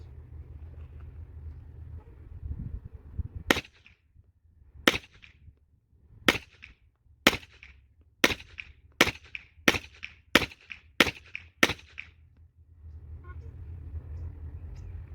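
Suppressed Glock 17 pistol fired at a target, about nine sharp shots at a steady, slightly quickening pace, each a loud crack with a short tail, over a low rumbling background.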